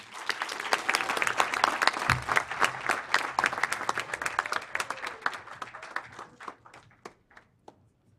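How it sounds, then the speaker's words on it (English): A large audience claps at the Carnegie Mellon University Africa graduation ceremony for the Class of 2023, welcoming the director. The applause is loud and dense, then thins into scattered claps before dying away. "Let us give a round of applause as we welcome Allen."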